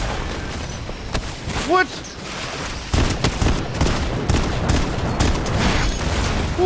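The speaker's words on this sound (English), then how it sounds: "Who's got a freaking rocket launcher this early on?" Gunfire and explosions in Fortnite, including rocket launcher blasts, sound as repeated sharp cracks and heavy booms at close range, with a short burst of talk in the middle.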